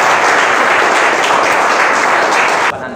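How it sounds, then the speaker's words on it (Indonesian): Applause from an audience at the close of a motivational talk on success through process: dense, steady clapping for nearly three seconds, then cutting off abruptly near the end. "Aplaus buat kita semua, guys."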